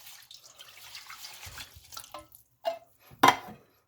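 Beef broth is poured into a pot for pot roast after searing, giving soft trickling and splashing liquid sounds that end in a louder splash, with no talking.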